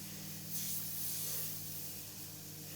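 Freehand airbrush spraying paint for Joker makeup gives a soft, steady hiss of compressed air, swelling slightly in a few faint bursts, close and alone.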